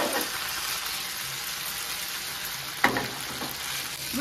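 Chicken pieces frying in hot oil for Kung Pao chicken while being stirred, giving a steady close sizzle with one sharper stir or scrape near the end, and no voices.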